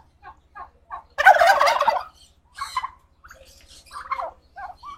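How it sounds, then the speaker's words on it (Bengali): Several turkeys gobble, freshly let out of their pen on a farm. Short clucks are followed by one loud, close burst of rapid gobbling, then more scattered calls and gobbles. A faint steady low hum runs underneath. "তো আমাদের টার্কি গুলো আজকে একটু ছেড়ে দেই"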